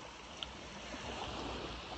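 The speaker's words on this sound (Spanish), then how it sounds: "estamos ahí pegadito al río, muy limpio. Esta agua de hecho proviene del lago" A clean river flowing beside a walking path in Inverness, Scotland, its steady broadband rush heard close and continuous without any talk.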